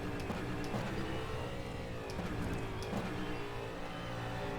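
Racing car engine in the rFactor 2 sim, revving hard and topping out along a straightaway, with a steady, loud, continuous drone and a couple of shift-like dips.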